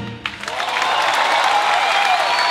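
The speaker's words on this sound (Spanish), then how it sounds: "Aplauso para esta orquesta maravillosa." An audience bursts into applause for an orchestra at a Mother's Day serenade concert, starting abruptly and swelling into a full, continuous round of clapping with a whistle-like tone riding over it.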